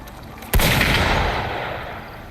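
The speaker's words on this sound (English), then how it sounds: "Gunfire! We've got intruders." A single loud gunshot blast from the Wuthering Waves video game, a sharp crack followed by a long booming, echoing decay that fades slowly over about two seconds.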